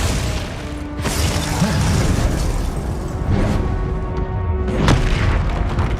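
Spell explosions in the Hogwarts Legacy video game come in a dense, continuous barrage of loud booms and blasts. Several sharper bursts stand out over a rumbling, crackling combat backdrop.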